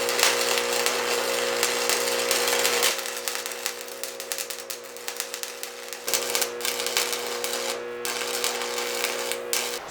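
An air tank is welded onto a Mazda truck: a steady, close, crackling sizzle runs throughout over a low electrical hum, with slight changes in intensity.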